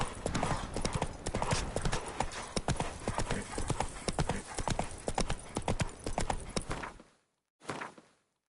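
Hooves of Roach, the horse in The Witcher 3 video game, clip-clop in a quick, steady rhythm, loud and close, then stop abruptly, followed by one short burst of sound after a brief silence.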